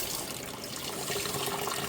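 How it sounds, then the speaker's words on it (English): A water sprayer blasts against a Miltoniopsis orchid pot, making a steady, close hiss of rushing, splashing water that continues without a break and has no voices over it. "I take the sprayer and I turn it on against the pot like that"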